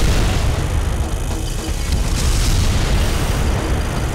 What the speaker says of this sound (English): Let's destroy these turrets immediately.